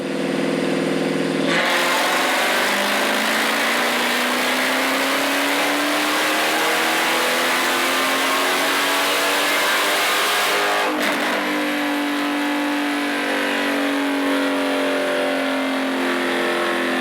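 A modified Dodge Hellcat Charger engine with bigger injectors and a smaller pulley winds up from idle into a long, loud, rising rev that climbs steadily, then cuts back to a lower engine drone.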